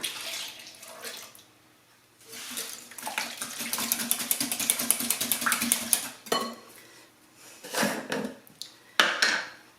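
Farm-fresh eggs stirred in a bowl, a busy run of clinking, scraping and sloshing strokes up close, pausing partway and then returning in short bursts.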